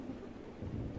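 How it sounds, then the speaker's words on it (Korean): Thunder and rain in the horror video game DISTRAINT, a low, brief rumble over a steady hiss of rainfall, with no voices. "천둥까지 치시겠다 이거지."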